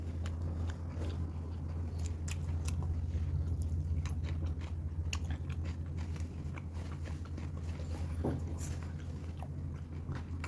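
Beef dum biryani being eaten, with soft, close chewing and occasional crunchy bites over a steady low hum.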